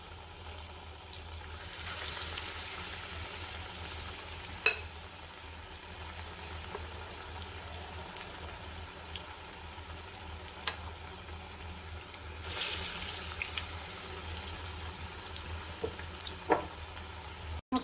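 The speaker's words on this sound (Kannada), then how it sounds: "ಈಗ ಒಂದೊಂದೇ ಉಂಡೆನ ಹಿಟ್ಟಲ್ಲಿ ಡಿಪ್ ಮಾಡಿ ನೋಡಿ ಹಾಕ್ಕೊಳ್ತಾ ಇದ್ದೀನಿ ಎಣ್ಣೆಗೆ." Batter-dipped bonda balls frying in hot oil, a steady bubbling sizzle throughout that swells louder as fresh pieces drop in, with occasional small pops and clinks.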